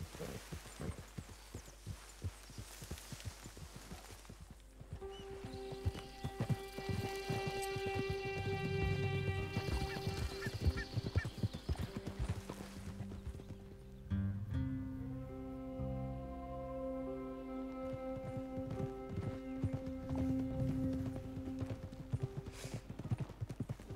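Rhythmic clip-clop of horse hooves at a steady trot in Red Dead Redemption 2, with a sustained musical hum and tones playing underneath throughout.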